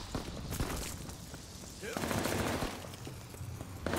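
Gunfire in Call of Duty Vanguard, shots coming through a wall, a cluster of sharp reports over a dense game mix with a voice speaking partway through.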